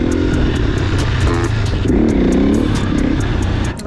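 A motorized quad bike being ridden and drifted roars loudly and close, its engine note rising and falling in pitch as it accelerates, with a dip near the end.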